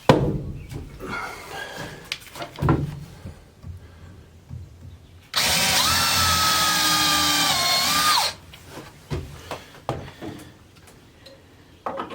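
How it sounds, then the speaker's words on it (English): A power drill whirs loudly for about three seconds as it drives a screw to fit a window on a chicken coop, with quieter knocks and handling noises before and after. "Now we don't want to drill these screws in very tight."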